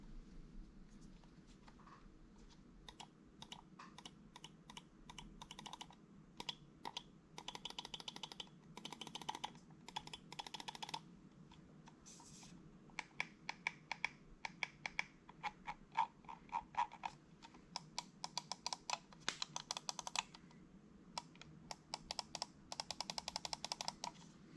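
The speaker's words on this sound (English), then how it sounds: "We can't do a mouse unboxing without doing a click test." Click test of a Scyrox V8 gaming mouse, with rapid sharp clicks in dense, irregular runs and short pauses, close and crisp.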